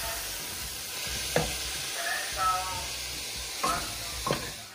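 Onion, mushrooms and balsamic vinegar cook in a pot with a steady low sizzle, broken by a few sharp clinks and scrapes of a spoon stirring, close up with no talking.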